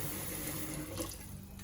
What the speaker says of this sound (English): I'm gonna put some water in the pot and add some salt and get that boiling